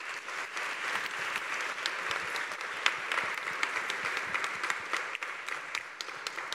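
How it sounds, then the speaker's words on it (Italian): An audience claps continuously for the winners at an Italian science event on fermentation, a steady, dense round of applause heard alone at moderate distance with no speech over it. "intanto un applauso ai vincitori"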